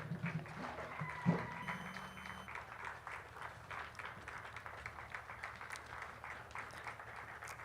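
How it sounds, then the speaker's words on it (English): Audience applause at a FAWE Uganda silver jubilee celebration launch, a sustained, fairly distant patter of many hands clapping with a brief voice and thump near the start, then even clapping to the end. "Please stand up for recognition and applaud."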